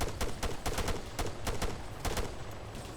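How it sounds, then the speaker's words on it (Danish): Rapid bursts of gunfire ring out in an irregular string of sharp cracks, roughly a dozen shots over a few seconds. A steady noise bed sits underneath and no voices are heard. "Nu er der en, der skyder."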